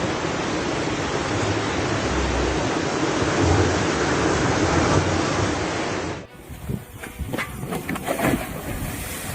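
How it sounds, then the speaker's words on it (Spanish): Thundering ocean surf in a brutal current off Oman: a loud, continuous wash of crashing water dominates for about six seconds, then drops into a rougher, choppier roar of water and wind. "El océano truena."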